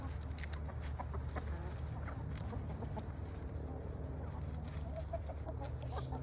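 Chickens on a farm cluck steadily at close range as they follow someone walking among them, over a constant low rumble of background noise.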